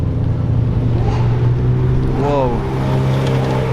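A blue McLaren supercar trimmed in carbon fibre, part of a mountain supercar run at Chamrousse, passes close with a loud steady engine drone and a rising rev sweep midway, while a person speaks briefly over it.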